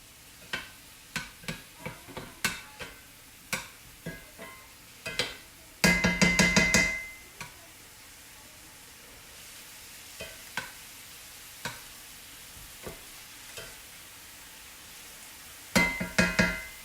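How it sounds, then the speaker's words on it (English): Onions sautéing in a pan for marinara sauce as a utensil stirs them, giving a soft sizzle beneath a series of sharp scraping clinks and two short bursts of quick rattling stirs, no talk. "I'm going to let that continue to saute and continue to mix it around."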